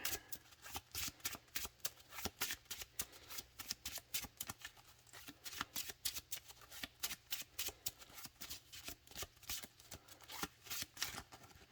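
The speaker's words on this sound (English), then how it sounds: "I'm going to start shuffling up" A deck of Magic: The Gathering trading cards being shuffled by hand, giving a long run of crisp, rapid riffling bursts in a steady rhythm, close and fairly quiet, with no talking.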